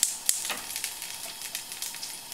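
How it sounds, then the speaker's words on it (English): Garlic and chicken stock sizzle and bubble in a hot pan, a steady close frying hiss with small crackling pops and no voices. "I'm going to heat these up together just for about a minute, until the stock's boiling and the garlic has just softened down nicely"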